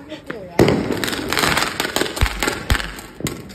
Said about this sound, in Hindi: ये मेरी माँ का विस्फोटक लैंड हो गया भाई।